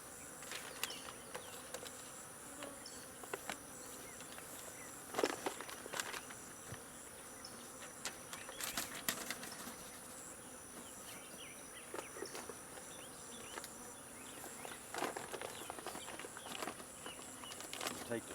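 Two honeybee swarms buzzing softly at a hive install, a faint continuous drone with scattered louder passes of individual bees flying close.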